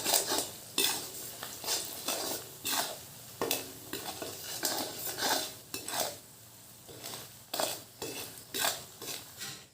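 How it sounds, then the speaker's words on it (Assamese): Sweet mango pickle mixture stirred in a pot, rhythmic scraping strokes of a spoon against metal repeating every second or so, close and moderately loud, without speech. "এইখিনি এতিয়া ভালদৰে লৰাই লৈ মিক্স কৰি অলপ সময় সিজিবলৈ দিম"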